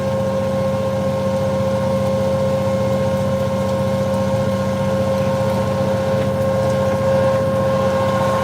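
A steady, droning boat engine hums continuously at close range beside a seafood processing barge, with a constant low rumble and no pauses.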